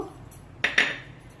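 Metal cooking pot handled in a home kitchen while making Andhra-style pappu charu, giving two sharp clinks close together in quick succession, close by, with no talk.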